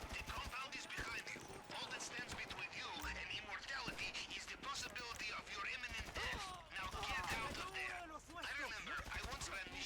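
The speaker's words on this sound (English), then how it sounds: "Oh man, already getting shot." Rapid gunfire rattles during a GTA Online heist session, with dense, overlapping shots and bursts packed closely throughout, loud and near, along with other game noise.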